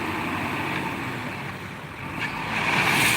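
A tipper truck unloads crushed stone (size-four gravel) at a work site. A low engine rumble blends with a diffuse rushing noise that swells louder toward the end, heard from a moderate distance.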